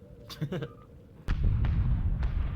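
Torpedo hits in Star Trek Bridge Crew: a voice speaks first, then a sudden loud explosive impact followed by sustained rumbling and further muffled blasts.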